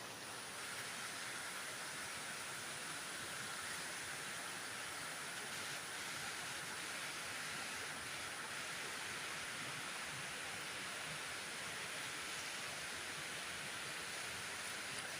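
Water rushing steadily at Si Po waterfall in Rangae district, Narathiwat, Thailand: a dense, continuous roar that holds an even loudness throughout, with no voices.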